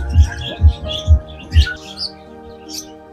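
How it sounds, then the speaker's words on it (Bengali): Several birds, lovebirds among them, chirp and squawk close by in short bursts, with rhythmic low thumps underneath during the first couple of seconds. "এখানে কিন্তু প্রচুর পাখি, বিভিন্ন কালারের লাভবার্ড থেকে শুরু করে অনেক ধরনের পাখি।"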